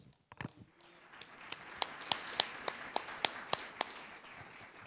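A congregation claps during a church service in honor of Jesus: a faint, steady wash of many hands with sharper, evenly spaced claps cutting through roughly every third of a second.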